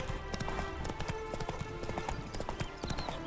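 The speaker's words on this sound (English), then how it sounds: "Spooking my horse. Roach doesn't like ghosts." A horse in The Witcher 3 is spooked by ghosts, its hooves clip-clopping in a quick, steady rhythm, close up with a busy game ambience behind.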